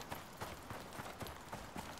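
Horse hooves clip-clop in the Icarus survival game, a steady, even trot of soft thuds about four per second, heard faintly under a wash of background noise.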